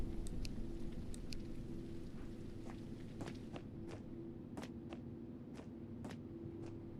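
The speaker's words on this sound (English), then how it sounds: "I hear rain." Rain in the horror game Greenhouse: a steady, soft patter with a low hum beneath it and irregular crisp taps, like footsteps or drips, spread across the stretch.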